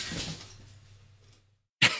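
Glass shatters abruptly and sharply at the very end after a box is unpacked, following rustling of packing material and a moment of near silence.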